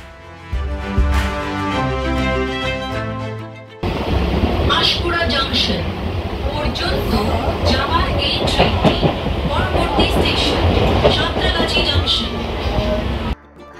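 A Howrah-to-Digha local train runs along the tracks with a steady, loud rumble and rhythmic clatter of wheels, heard up close from on board after a brief musical opening.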